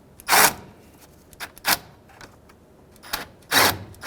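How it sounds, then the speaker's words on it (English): A ratchet tightens a nut on the starter of a 2003-2011 Honda Element. Several short, sharp bursts of clicking come close by, separated by brief quiet gaps. "I had a ratchet nearby just to make sure we're tight."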